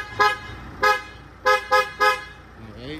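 A 2012 Mitsubishi Montero Sport 4x4 SUV sounds its horn in five short, loud toots, close up, two quick blasts coming back to back near the middle.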